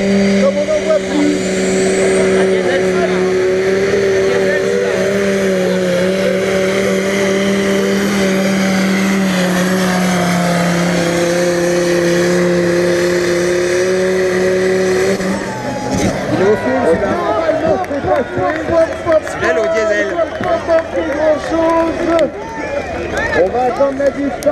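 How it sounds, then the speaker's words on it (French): Turbocharged Mercedes V10 diesel engine on a pulling tractor at a tractor-pulling event in Bernay, 2017, roaring steadily at full load, then turning rougher and more broken near the end, with an announcer's voice over it. "son moteur Mercedes V10 sur lequel il est venu greffer ses turbos"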